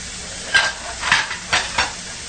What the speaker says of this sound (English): while we're still waiting for the meat to cook